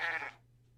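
A goat in a video game lets out one short, loud bleat, and nothing follows it but quiet.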